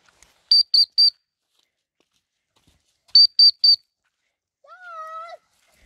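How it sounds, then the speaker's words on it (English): Two quick bursts of three sharp, high whistle blasts, a pause between them, followed by a short, lower warbling whistle; otherwise quiet. "Shall I blow the whistle?"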